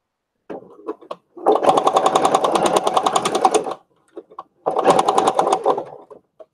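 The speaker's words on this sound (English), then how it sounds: "you're just going to follow your seam and sew down all the way around. And turn the speed up here a little bit." An old sewing machine stitching a seam on lace, running in a loud, fast rapid-fire needle chatter for about two seconds, pausing briefly, then running again, with short mechanical clicks before and between the runs.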